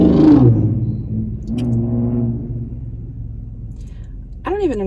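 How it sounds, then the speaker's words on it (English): A loud car engine rumbles deep and close, surging at the start and again near the end, with a voice speaking over it. "people have to have their cars so incredibly loud all the freaking time"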